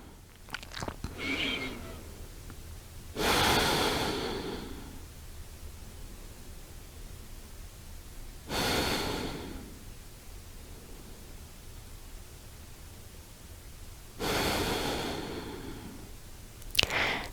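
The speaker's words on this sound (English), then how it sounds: "we're breathing in and out through the nose" Slow, deep nasal breaths during a hip flexor stretch, three long airy exhalations spaced several seconds apart, close and soft against quiet room tone with small rustles between them.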